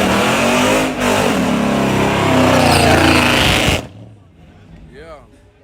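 Motorcycle revving at a grudge drag race, a loud roaring engine that cuts off abruptly, with people talking afterward.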